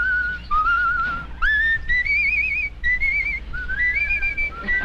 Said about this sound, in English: Which one of you is the whistler?